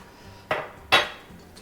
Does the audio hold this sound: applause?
no